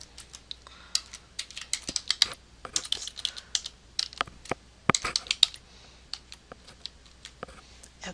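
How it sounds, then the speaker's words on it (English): Typing on a computer keyboard while entering a bride and groom's names into a title in Pinnacle Studio 15: fast, irregular bursts of close, crisp key clicks with short pauses, no voices. "we're going to type in the name of our bride and groom"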